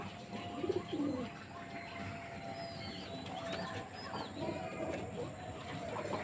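Pigeons in a rooftop net enclosure give a couple of soft coos amid faint wing flutters and a busy outdoor background, with other birds chirping thinly in the distance.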